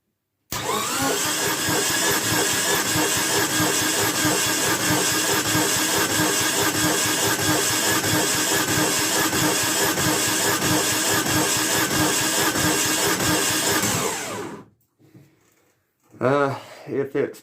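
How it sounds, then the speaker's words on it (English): A 1991 Geo Metro convertible engine spun over on the starter for about fourteen seconds, a steady loud rhythmic cranking whir that stops abruptly, followed by a short burst of talk. "I'm going to spin the engine over for about 10 seconds or so, because I'm trying to get the oil pressure to come up"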